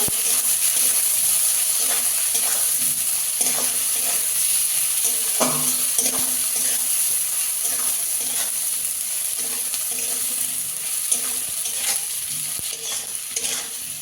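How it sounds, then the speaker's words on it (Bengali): Chili and turmeric powder sautéing in a pan for a papaya and fish curry, a steady sizzle and hiss with the scrape of stirring and an occasional sharper clink, continuous throughout. "পরিমাণ মতো হলুদ গুঁড়ো দেবো লঙ্কাটাকে কষিয়ে দেবো"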